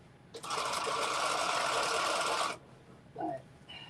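A sewing machine stitches denim jeans close to the edge in one steady, loud burst of about two seconds, then stops, followed by faint handling sounds.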